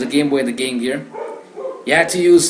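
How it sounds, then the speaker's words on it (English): Several pet dogs bark in the background of a home, short yapping bursts partly buried under a man's close, ongoing talk. "you can hear my dogs barking in the background"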